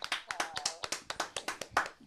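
Around a dozen sharp, quick hand claps from one or two people welcoming a guest in a morning show studio, close and fairly even in rhythm, with no cheering behind them.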